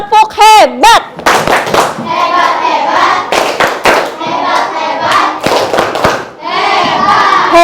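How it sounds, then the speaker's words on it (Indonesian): A class of sixth-grade schoolchildren in an Indonesian elementary school perform a patterned group clap, loud bursts of hands clapping in rhythm mixed with chanting voices, opening with a sliding vocal cry. "Oke, tepuk hebat."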